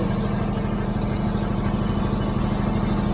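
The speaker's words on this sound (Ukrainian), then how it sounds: "Генератор від компанії Wilson. Дуже добрий генератор, потужністю 44 кВт." A Wilson 44 kW diesel generator runs at a steady, loud, even drone with a low rhythmic throb, constant throughout with no voices.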